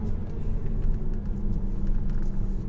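A Porsche Cayman 987 works around a hairpin bend with a steady, low engine rumble and road noise from inside the car, moderately loud and without obvious revving.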